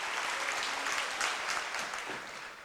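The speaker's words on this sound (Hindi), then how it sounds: "इसके लिए एक ताली आप लोगों को जरूर बजानी चाहिए।" An audience at a Let's Inspire Bihar first-anniversary event bursts into sustained applause, a dense, even wash of many hands clapping that fades slightly toward the end, with no voices over it.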